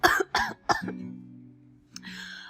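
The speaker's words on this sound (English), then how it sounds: "What is this cough?" Three sharp coughs in quick succession, close and loud, followed by a drawn-out wheezy tone and a brief rustle.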